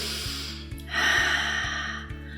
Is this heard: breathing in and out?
yes